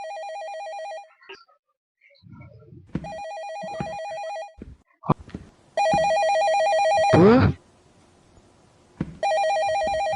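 A cell phone rings repeatedly inside a store in the horror video game Night Shift: The Last Call, sounding as bright electronic ring bursts separated by short pauses, with a brief word spoken and a few small noises in between.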